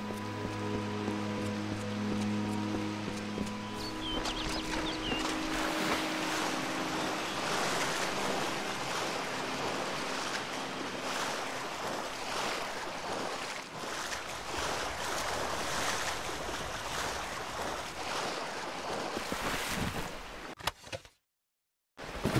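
Water waves washing and surging steadily in the fantasy action RPG Kingdoms of Amalur Re-Reckoning, a continuous broadband wash with low rumble and faint tonal music early on, ending in a sudden cutoff.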